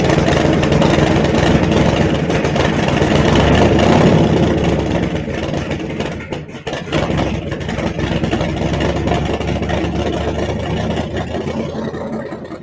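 A car engine fitted with two carburetors runs loud and close for the whole stretch, a dense, continuous rumble that holds steady, dips briefly partway through and then settles back into a steady roar.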